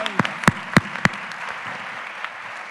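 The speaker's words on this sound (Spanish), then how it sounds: "Un aplauso para ustedes mismos," A few scattered, sharp claps from an audience ring out near the start, four distinct hits spaced about a third of a second apart, then fade into a quiet room murmur.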